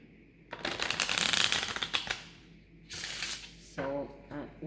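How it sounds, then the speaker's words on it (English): A deck of oracle cards is shuffled close by, giving a dense riffling flutter for about a second and a half, followed by shorter bursts of card handling. "So one shuffle to clear the deck."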